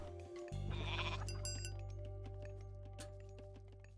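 Goats bleating in the Age of Mythology video game, a close, clear bleat with a light metallic clink over a steady game hum, no talk.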